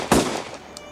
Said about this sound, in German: Waren das Schüsse? Ich glaube ja.